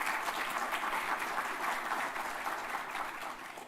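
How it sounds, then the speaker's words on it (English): An event audience applauds the finalist teams at a G20 TechSprint final, dense sustained clapping from a large crowd that fades slightly toward the end. "A round of applause to all finalist teams."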